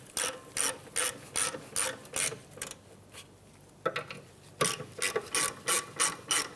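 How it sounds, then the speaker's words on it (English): Ratchet wrench with a 14 mm socket tightening rear brake bolts on a 2007-2013 Mitsubishi Outlander, a close, loud run of rapid clicking pawl strokes in bursts, a short pause midway, then more clicking, with no talk. "And we'll tighten them down with a 14 millimeter socket."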